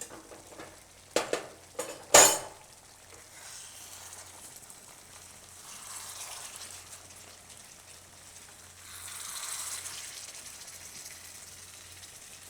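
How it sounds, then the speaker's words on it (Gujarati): A spoon clinks sharply against a pan a few times while Hyderabadi eggplant gravy is stirred, and then the gravy simmers with soft, faint bubbling. "હવે એને થોડીક વાર આપણે ઉકળવા દેવું."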